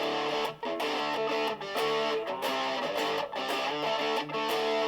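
Electric guitar chords played through a Rat distortion pedal with the distortion knob turned down, giving a slightly gritty, trashy crunch that rings continuously with brief gaps between strummed phrases.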